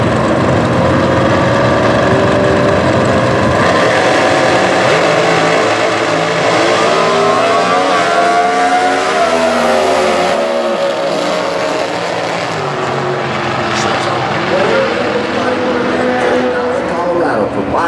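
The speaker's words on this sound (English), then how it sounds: "That's a small block motor." A drag racing dragster with a small block engine roars loud and close at a national event, its engine revving and climbing in pitch, while a track announcer talks over it throughout.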